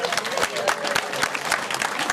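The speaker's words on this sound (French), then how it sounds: "Applaudissons pour eux." Guests at a wedding applaud the couple with dense, lively clapping from a crowd close by, continuous across the moment with a voice faintly mixed in.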